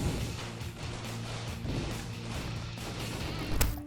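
Big explosions in an offline mobile action game, a dense run of booming low-end blasts and crashing debris that rolls on continuously, capped by a sharp loud hit near the end.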